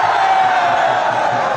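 Loud rally crowd noise at an outdoor political election rally in Jamui, Bihar, a dense continuous roar of cheering and clapping that holds steady throughout.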